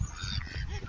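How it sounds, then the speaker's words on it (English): Geese or ducks honking near an old stone bridge in a Tasmanian village, a run of nasal calls close by over steady outdoor background noise. "The duck says quack, quack, quack, quack."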